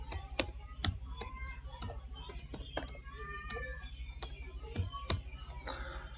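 A name is typed on a computer keyboard in a close, uneven run of crisp key clicks over a low steady hum.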